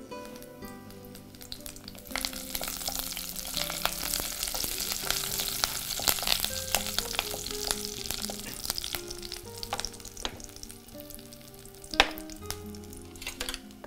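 Urad dal, fenugreek and curry leaves sputter and crackle in hot oil during tempering, a steady close sizzle with sharp pops and a brief louder crack near the end, no talking.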